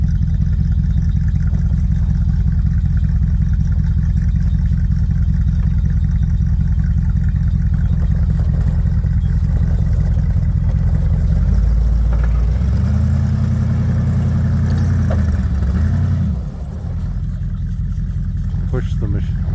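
A Bombardier machine on skis is driven up ramps onto a trailer. Its engine rumbles loudly and steadily throughout, then revs up and climbs in pitch for a few seconds before settling back to an idle.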